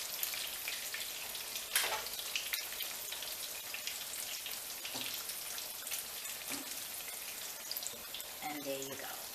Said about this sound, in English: I'm going to continue frying